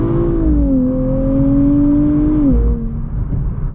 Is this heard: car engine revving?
yes